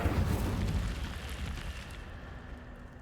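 Incendio fire spell cast in the video game Hogwarts Legacy, a sudden loud, rumbling burst of flame that roars up at once and then slowly fades over about three seconds.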